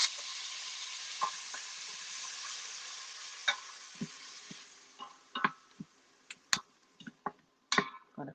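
Frozen onions, peppers and celery hit a hot pot for a Creole red beans base, giving a steady broad sizzle that fades slightly, then scattered sharp pops and clicks of stirring toward the end, with no talking.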